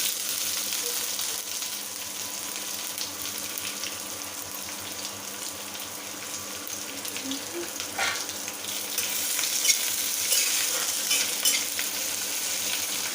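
Onions frying in a pan for a jackfruit curry, giving a steady crackling sizzle with stirring throughout and a slight rise in intensity toward the end, with no talk.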